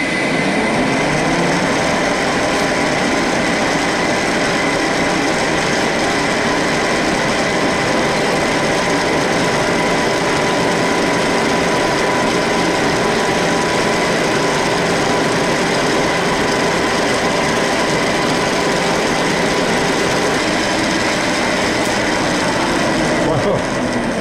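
A lathe turning at 420 rpm cuts a square thread into a pine wood stick, producing a steady, dense machine whir and cutting drone heard close and continuously throughout.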